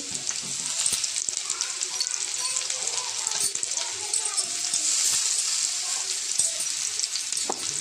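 Cut tomatoes sizzle and fry steadily in a hot pan, a dense bright crackle with occasional stirring scrapes, heard close and continuous.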